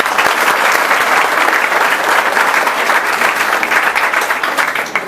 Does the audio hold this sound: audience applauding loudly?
yes